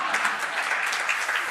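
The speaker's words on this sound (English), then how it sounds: "big round of applause to me also" An audience at a book launch claps in a dense, sustained round of applause that stays loud and even throughout, with many hands blending into one continuous roar.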